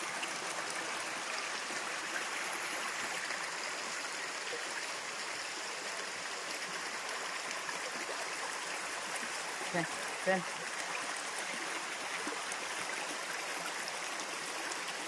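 Steady rushing water from a waterfall fills the background, with a faint voice surfacing briefly midway.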